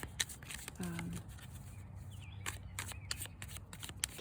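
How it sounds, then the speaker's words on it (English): Tarot cards are shuffled by hand in quick, soft riffling bursts and flicks, faint and close, with a quiet voice speaking over them. "while I'm shuffling the cards"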